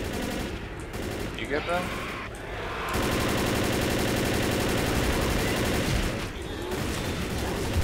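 Guns fire in Left 4 Dead, loud bursts of rapid automatic shooting that grow into a sustained, near-continuous volley, with a person briefly talking early on.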